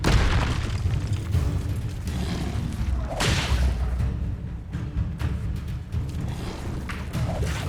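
Spell blasts in Hogwarts Legacy, including summoning, freezing, exploding and disarming casts, land as dense booming bursts and whooshes one after another, loud and busy throughout a combat clash.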